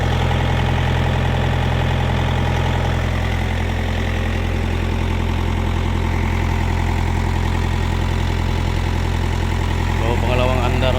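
A Bomag RTK 455 road roller diesel engine runs steadily after an overhaul that fixed hard cranking and hard starting, a loud, close, continuous idle rumble with a deep even throb throughout, and someone talks over it.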